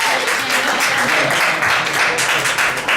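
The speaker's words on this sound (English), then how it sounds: "We can give that a round of applause." Audience at a comedy show breaks into loud, sustained applause, dense clapping filling the whole stretch with no pause.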